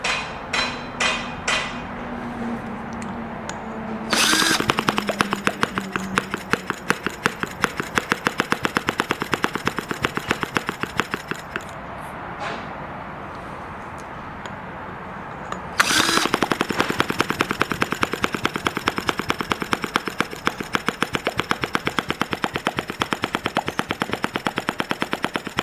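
A Retrol 1140 engine slowed in speed runs with a rapid, regular percussive chugging like machine-gun fire, loud and close. It fades down for a stretch midway, then picks back up strongly for the rest of the clip, with no talking.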